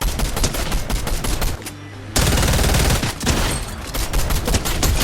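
Rapid, loud gunfire from a new shotgun in a first-person shooter game, a dense continuous burst with one brief pause before firing resumes.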